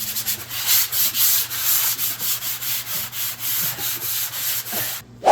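A sanding sponge rubs over a drywall joint in quick, rhythmic back-and-forth strokes, a close, loud scratchy hiss with no talking, ending in a brief bump.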